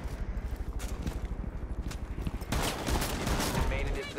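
Gunfire fired through a wall in Rainbow Six Siege rattles in quick repeated bursts, then swells into a louder, denser volley, with voices talking over it.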